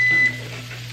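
A kitchen oven signals it has finished preheating to 375 degrees with a short, steady electronic beep over a low appliance hum, the tone ending abruptly partway through.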